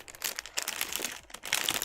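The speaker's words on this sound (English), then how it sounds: "I can hear the crackle of plastic." Plastic packaging crinkles and crackles as it is opened, an irregular run of close, crisp rustling bursts with brief pauses between them.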